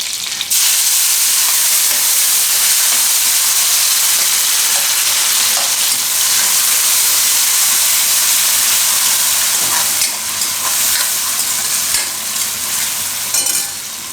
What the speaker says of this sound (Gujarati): ટમેટાને થોડીક વાર આમાં પકાવી